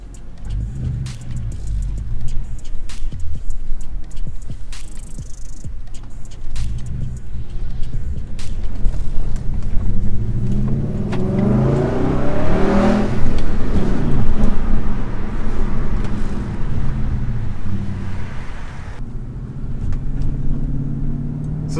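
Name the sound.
V8 all-wheel-drive car driving and revving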